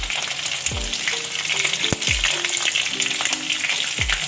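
Green chilies dropped into hot oil for tempering, along with cumin seeds: a loud, continuous hiss of sizzling, broken by a few clanking knocks from utensils.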